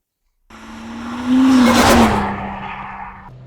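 A Nissan Stagea RS Four estate wagon pulls hard in second gear, its engine note climbing loudly and steadily over a few seconds, close up and with no talking.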